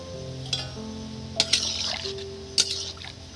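Soybeans tipped into a pot of water to boil: a few soft splashes and drips close by over a low steady hum, quiet between the splashes.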